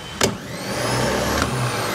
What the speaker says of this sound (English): this should spin out and it should turn at a very high speed, and this will engage with the ring gear, and that's what in turn starts your tractor